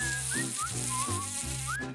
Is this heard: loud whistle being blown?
no